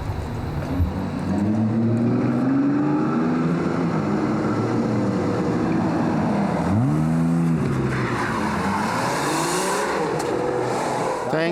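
Two cars driving close together for a stunt scene, one following the other with engines droning and revving loudly throughout, pitch rising and falling as they accelerate, with a brief surge near the middle and faint voices beneath.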